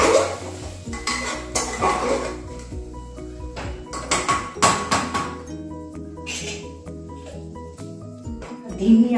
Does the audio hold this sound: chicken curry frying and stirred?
yes